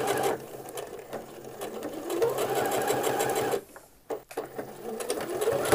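A sewing machine runs steadily along the folded edge of a men's shirt near the underarm, its fast stitching hum pausing briefly for a back stitch before resuming close up.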